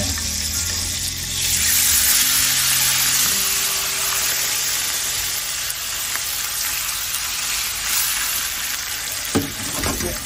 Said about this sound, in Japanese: アンチョビのペーストでちょっと強火にして白ワインですね